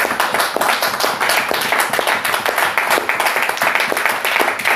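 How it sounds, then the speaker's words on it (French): Church congregation clapping in lively, fairly rhythmic bursts, close and loud, with individual hand claps standing out through the dense applause. "Applaudissons pour le Saint-Esprit."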